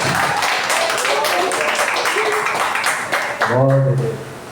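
A church congregation claps joyfully to welcome an elder, a dense wash of applause filling the room, ending with a voice starting to speak over it.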